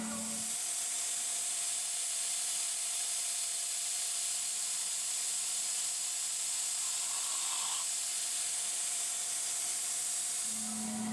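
A mist coolant sprayer on a machine tool hisses in a loud, steady, airy rush that runs almost the whole time, with a faint hum starting and stopping at either end.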